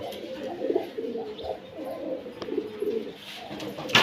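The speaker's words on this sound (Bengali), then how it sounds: "মিলিটারি কবুতর আছে এখানে এক জোড়া দেখতে পারতেছেন" A pair of military pigeons coos repeatedly in soft, low, rolling phrases close by, with a few faint higher chirps and a brief knock near the end.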